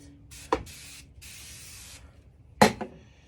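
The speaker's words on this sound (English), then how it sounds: "I'm going to put a little bit of that spray." A spray bottle squirts several short bursts of cleaning spray mist onto a vintage Ludwig drum kit being restored, with brief sharp clicks or knocks of handling between them.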